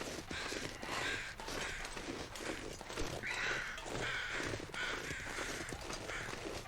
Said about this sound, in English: Those crows just moved right in, didn't they?